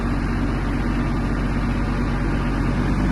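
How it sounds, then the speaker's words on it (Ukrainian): A Japanese Iseki TK-25 mini tractor runs at its lowest speed in first gear, its engine giving a steady, close, low throbbing drone that holds an even level throughout. "Це у нас мінімальна швидкість трактора."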